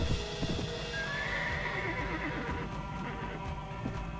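Horse neighing and hooves clip-clopping in the Mount & Blade video game, a drawn-out whinny rising over a steady, fairly loud rhythm of galloping hoofbeats with no talk.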